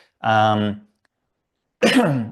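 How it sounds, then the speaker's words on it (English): Two short throat-clearing coughs close to the microphone, separated by a second of silence. "I'll probably be coughing a little bit."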